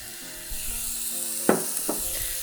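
Half a pound of ground beef sizzles in a non-stick pan with no oil. A soft, steady frying hiss runs under a few close scraping and clacking knocks from a spatula.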